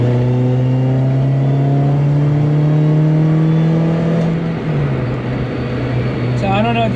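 Subaru Vivio RX-R micro car with a small Roots-style supercharger and all-wheel drive: a loud, steady high whine with rising pitch over the engine drone, heard from inside the cabin, with brief chatter near the end.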